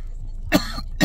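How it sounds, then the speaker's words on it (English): Two sharp, close coughs from smoking a joint, about half a second apart, loud and raspy against a quiet background. "Damn, got me coughing."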